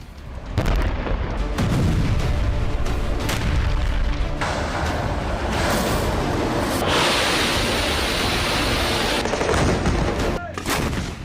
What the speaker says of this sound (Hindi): सैनिकों को इससे भी तसल्ली नहीं हुई तो 10 राउंड और गोले दाग दिए।